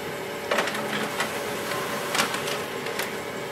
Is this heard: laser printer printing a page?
yes